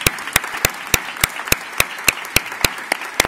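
Applause from an audience at a Spanish Constitution Day ceremony, sharp hand claps falling in a steady, rhythmic beat, fairly close and loud, with no voices over it.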